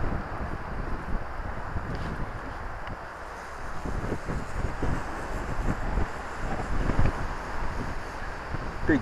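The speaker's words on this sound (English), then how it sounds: "Big 20 knot gust there." Strong wind of about 20 knots buffets and roars against the microphone, gusting in rough bursts with no voices heard.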